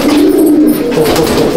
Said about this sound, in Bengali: এখানে সুন্দর জোড়ায় জোড়ায় দেখুন আমলুক পায়রা বসে আছে